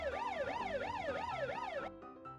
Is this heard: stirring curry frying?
no